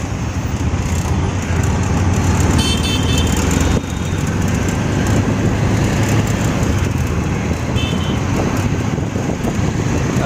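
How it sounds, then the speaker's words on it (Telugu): Heavy Delhi road traffic near the Red Fort makes a continuous dense engine drone, with a few short, distant horn honks breaking through briefly. "ఢిల్లీ ట్రాఫిక్ అయితే ఘోరంగా ఉన్నది"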